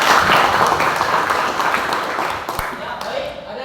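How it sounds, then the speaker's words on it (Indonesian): Classroom applause, a short dense burst of clapping from students that fades slightly toward the end, with some voices mixed in. "Ya, alhamdulillah, tepuk tangan."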